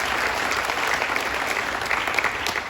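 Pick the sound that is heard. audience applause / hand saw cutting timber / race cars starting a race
audience applause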